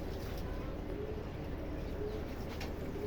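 A pair of Spanish pouter pigeons at a fancy pigeon farm give soft, low cooing calls, faint and muffled under steady background noise.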